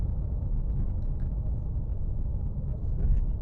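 An Opel Mokka SRi engine pulls hard after a downshift, a low, steady rumble with road and cabin drone heard from inside the car, swelling slightly toward the end.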